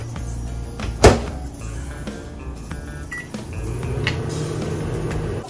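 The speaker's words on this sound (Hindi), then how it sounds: "आप सो जाए तो इसको 30 सेकेंड के लिए माइक्रोवेव कर लें." A sharp click, then a low steady electric hum of a microwave oven running nearby.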